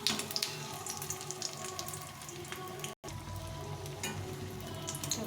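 Pumpkin flower fritters fry in a pan of oil with a steady, even sizzle. It is broken once by a brief silent gap and then resumes at the same level.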